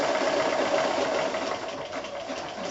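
A sewing machine runs steadily at speed, stitching a blanket stitch around fused applique in quilting work, a continuous close mechanical whir with no pause.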